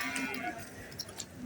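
A cow lowing at a busy livestock market, the moo faint and partly buried under surrounding crowd noise and background chatter.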